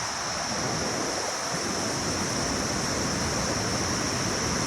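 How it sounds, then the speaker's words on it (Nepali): The Marsyangdi river below a dam on the Tilicho trek in Nepal, a loud, continuous roar of rushing water filling the whole clip with no voices. "अहिले चाहिँ माथि ड्यामको चाहिँ एकदम खोलाको बहाव एकदम बढिरहेको छ होइन।"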